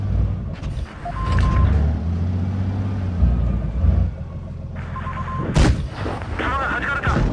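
Artillery shots from self-propelled guns in the tank battle game World of Tanks Blitz, loud booming blasts with several heavy impacts and rumbling engine noise, alongside faint beeps and a voice talking over parts of it.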